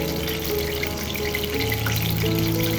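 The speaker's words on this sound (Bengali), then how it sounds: "ইলিশ মাছের মাথাটা হলুদ আর লবণ দিয়ে মেখে নিয়ে তারপর কড়া করে ভেজে নিচ্ছি" A turmeric- and salt-rubbed hilsa fish head deep fries in oil, giving a steady, close sizzling hiss over a low background hum with a few faint tonal sounds and no talking.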